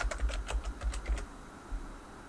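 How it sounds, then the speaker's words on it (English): Quick clicking keystrokes on a computer keyboard as a search term is typed, a close burst of about a second before the sound drops to quiet. "you can type in any search term that you want"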